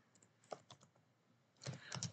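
Soft, close keyboard typing while entering C code for a string copy exercise: scattered individual keystrokes, then a quicker burst of clicks near the end, with no talking.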